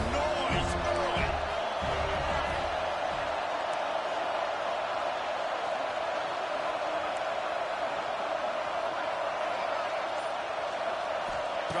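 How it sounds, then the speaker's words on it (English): Stadium crowd at a Texas A&M vs USC college football game, a loud continuous roar filling the space throughout, with some thumping and talk early on. "This crowd bringing the energy and noise early."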